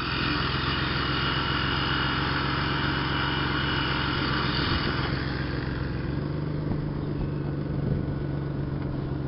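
A 1997 Ford Taurus Wagon sits idling, its engine and exhaust giving a steady, droning rumble with a low hum that holds evenly throughout, heard close and alone.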